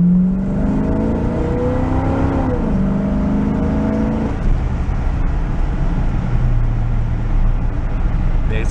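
A 1970 Mercury Cougar pulled from a scrap yard, with a suspected carburetor issue, accelerates hard from a stop; the engine note climbs steadily and loud, then settles into a sustained roar with road noise.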